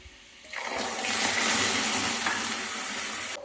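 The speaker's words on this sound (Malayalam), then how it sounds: "ഇപ്പോൾ വെള്ളം ചേർക്കുമ്പോൾ നമ്മൾ കുറേശ്ശെ ചേർത്ത് കൊടുക്കണം" Water poured into a hot pan while making carrot cake erupts into a sudden, loud hissing sizzle that holds steady for about three seconds, then cuts off abruptly.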